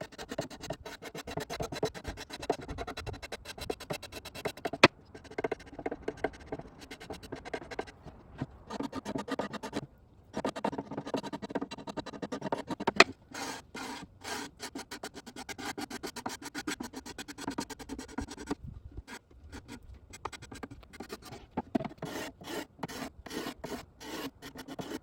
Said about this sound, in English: I also sanded it afterwards with 120 and then 320.